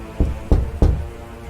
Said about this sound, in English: 3 more knocks.